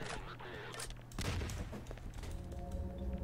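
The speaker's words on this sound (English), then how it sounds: "Oh, frick, not another grenade." Explosions and gunfire in the game Garry's Mod, a dense rumbling blast and crackling shots layered in a busy, continuous mix at low volume.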